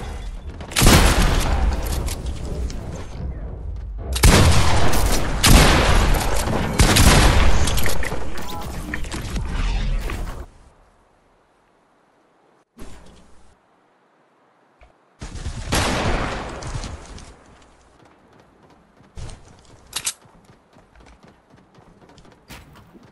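SMG bursts in the Fortnite video game come as loud, dense rapid-fire volleys in several long stretches, with gaps of near silence and a later shorter burst plus a few isolated shots.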